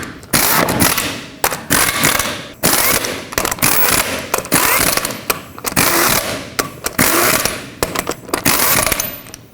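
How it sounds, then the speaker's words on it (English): An impact or ratchet tool runs lug nuts onto a Chevrolet Express 3500 front wheel in repeated loud, close, clattering bursts with brief gaps between them, with no talk over it. "Start on all of your lug nuts, bottom them out, and then torque them to 140 foot-pounds."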